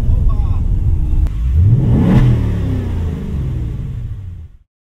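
A Ford Mustang 5.0 GT Performance engine revs loudly up close, climbing in pitch to a peak, then settles into a throaty rumble before cutting off abruptly.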